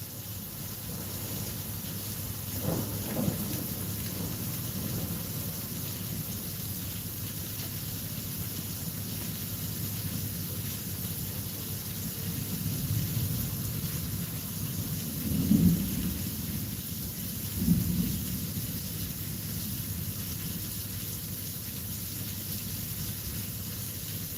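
A thunderstorm with steady rain hissing throughout, broken by several low rolling thunder rumbles, one early and two louder ones near the end, with no talking.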